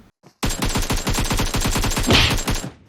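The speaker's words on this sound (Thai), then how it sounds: "สำหรับช็อตนี้เราจะเห็นได้ว่าเขายิงคนตรงภูเขา" Rapid automatic gunfire from PUBG Mobile as a player is shot on a mountain, a long steady burst of evenly spaced loud shots after a brief faint pop, with no talk.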